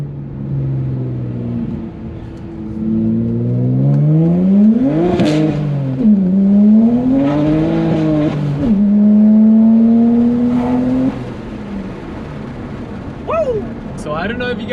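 A 2009 BMW 135i with the N54 engine pulls hard in first gear, its engine note climbing steadily and loudly, dipping briefly at a shift point and rising again, with a few sharp pops near the end.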